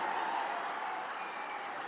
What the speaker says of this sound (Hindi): जोर से एक बार ताली बजाकर स्वागत करिए हमारे सांसद का